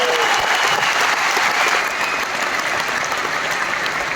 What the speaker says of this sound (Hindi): तो सबसे पहले मैं एक बार जोरदार तालियां चाहता हूं उन लीडर्स के लिए